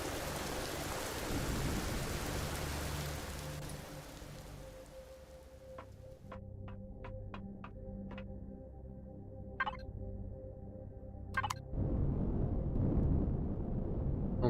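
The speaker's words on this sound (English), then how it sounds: "Damn, acid rain hurts." Acid rain patters steadily in the space survival game Empyrion, with a low thunder rumble underneath and a run of sharp clicks and ticks partway through before the rain swells again.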